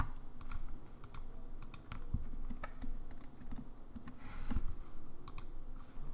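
Rapid, uneven typing on a computer keyboard as code is written for a Node.js server file, with clustered keystrokes and occasional sharper clicks, close and fairly quiet, with no talking.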